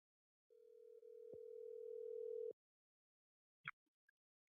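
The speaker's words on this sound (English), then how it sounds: "Let me make that phone call." Telephone dial tone, a single steady electronic hum heard close for about two seconds with a brief click partway through, then a short beep and faint clicks of the line connecting in an otherwise quiet room.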